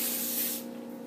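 Olive oil or coconut oil cooking spray misted onto chicken on a sheet pan, one close, loud hissing burst lasting about half a second and then fading out.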